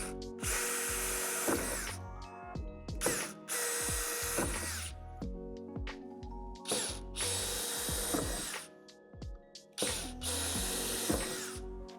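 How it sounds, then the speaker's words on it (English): A power drill whines through the first metal layer of a storage shed door in repeated bursts, each lasting a couple of seconds with short pauses between, loud and close. "drill them out with the provided drill bit"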